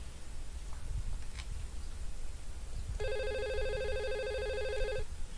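A VoIP desk telephone rings with a bright electronic ringtone during a test call between extensions, starting partway through and sounding steadily for about two seconds over a quiet room hiss.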